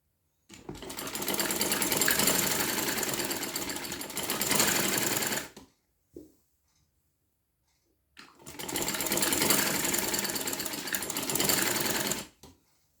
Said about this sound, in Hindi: तो ये सारी फिटिंग में सिलाई कर दें।